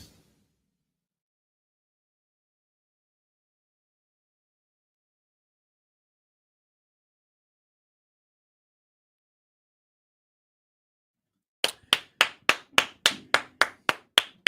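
A crowd doing the Cubs clap in unison: about ten sharp, evenly spaced claps arrive after a long stretch of silence, loud and close, with no talking.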